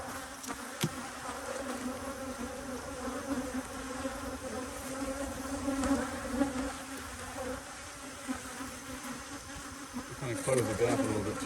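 Honey bees drone steadily around open hive boxes while honey supers are added and colonies are fed and checked for queens, a dense continuous buzz close to the ear with a brief louder swell near the end.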